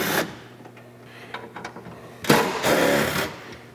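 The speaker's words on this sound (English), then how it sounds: "we're going to go ahead and remove the 4 bolts that hold our air box plate down inside here." Bolts being removed from an air box plate while installing an S&B cold air intake: a power tool whirs in short bursts with scattered clicks and a louder buzzing burst near the end, close and alone.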